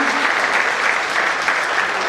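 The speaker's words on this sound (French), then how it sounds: "Est-ce qu'on peut les applaudir" Steady, dense applause from a theatre audience at a community stage event, sustained evenly for about two seconds with no pauses.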